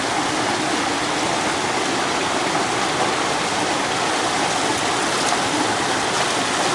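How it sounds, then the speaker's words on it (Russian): A mountain river rushes through the Cherkasai gorge, a steady, loud, broadband roar of flowing water that stays constant for the whole stretch, with no voices over it. "В этой прекрасной горной реке."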